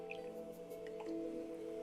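Water drips and squishes on wet clay during pottery throwing, a few faint soft drips over a steady low hum of the spinning wheel.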